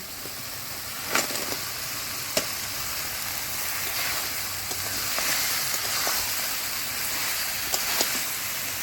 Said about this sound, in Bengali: মশলা থেকে তেল ছেড়ে দিয়েছে এবারে ক্যাঁকড়া ভাজাটা দিয়ে দেব